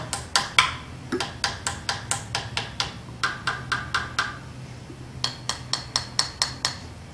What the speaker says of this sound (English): Now I'll tap the edge of my guitar.